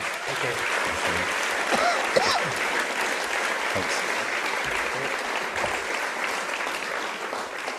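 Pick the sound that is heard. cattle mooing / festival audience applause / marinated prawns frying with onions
festival audience applause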